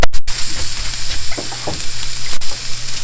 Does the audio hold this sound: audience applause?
no